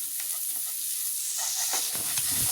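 Masala boti fries in a nonstick pan with a continuous close sizzle and occasional stirring scrapes.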